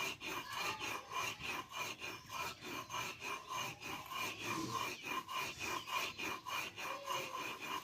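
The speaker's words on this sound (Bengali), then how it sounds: "এবার আমি গুঁড়ো করে নেব" Homemade black salt is ground into powder with a rhythmic series of rough, gritty rasping strokes, roughly two per second, close and fairly quiet.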